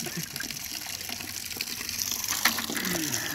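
Fluid drains out of a vehicle in a steady, close gushing and splashing pour that holds throughout, with faint voices in the background.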